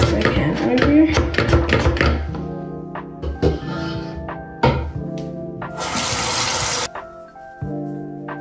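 Tap water running into a sink during face washing, a close splashing flow with clunks and splatters, a brief harsher gush near the end, and someone talking.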